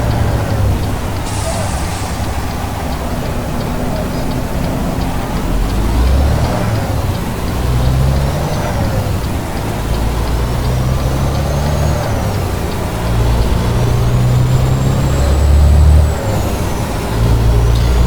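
A truck's Detroit diesel engine runs with a deep, rumbling drone that rises and falls, loud and close, with a few hissy air bursts over the low throb.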